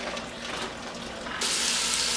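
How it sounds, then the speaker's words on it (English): Homemade lobster stock poured from a pot into a bowl, a steady splashing stream that starts softly and swells into a loud, continuous pour near the end. "we're going to take the stock that we've made, and we're going to pour this into a bowl"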